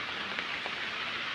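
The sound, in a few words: heavy rain falling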